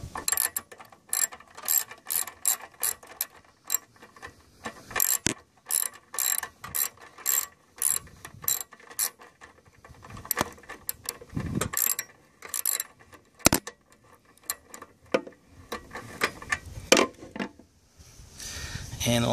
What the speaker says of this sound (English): now we're going to tighten this bolt.